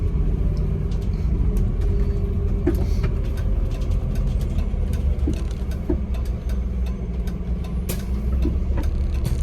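A tram on a technical run through a city, crossing a roundabout and heading straight on: steady low rumble of motors and running gear, continuous and near, with faint squeaks and clicks over it and no talk.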